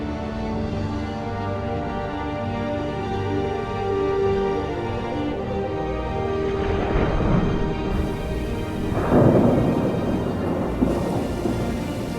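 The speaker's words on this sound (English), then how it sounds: "The downpours can be massive." Heavy downpour drumming steadily with thunder rolling through, sweeping over inland grassland toward the Mongolian steppe as a Pacific cloud front arrives; two louder thunder bursts build in the second half over the continuous roar of rain.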